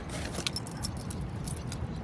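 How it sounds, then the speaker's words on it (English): Small keys jangling against a trailer hitch lock cover, a few light metallic clinks and rattles close up over a faint background hum. "they have the keys stuck on the little cover"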